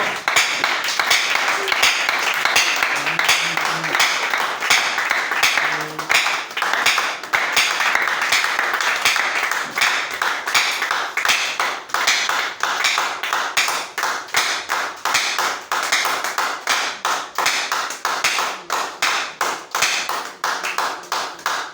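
A church congregation claps together in a steady, lively rhythm that carries on for a long stretch, loud and near, with a few voices faintly heard beneath it.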